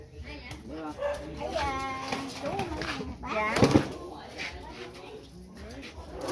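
A dog barks in short bursts at a village house, close and loud, mixed with people talking over it.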